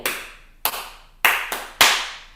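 Five crisp handclaps from a music game for kids, close and bright, the first two spaced apart and the last three quicker, with no voices over them.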